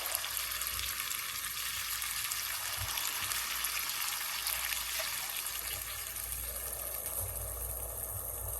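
Spice masala for beef tehari being sautéed in a pan, a soft continuous sizzle and hiss with occasional faint stirring, fairly quiet and steady.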